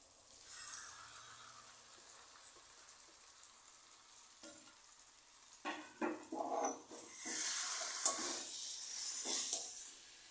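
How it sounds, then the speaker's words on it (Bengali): Boiled cauliflower and potato filling is stirred in a hot pan, giving a soft sizzle and hiss that is broken by several scraping, clattering strokes of the spoon against the pan partway through. "এটাকে দিয়ে ভালো করে নেড়ে নেড়ে একটু শুকিয়ে নিতে হবে"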